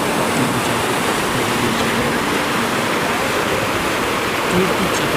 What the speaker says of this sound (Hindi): यहाँ पर से इन सभी ग्लेशियरों का पानी एक साथ बाहर को निकलता है